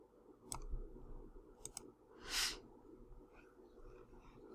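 Sharp computer mouse clicks during a TinkerCAD design session, a few quick isolated clicks near the start followed by a short rustling burst, over a low steady background hum.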